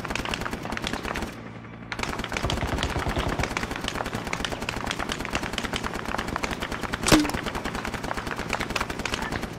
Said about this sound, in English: Sounds like a heavy weapon.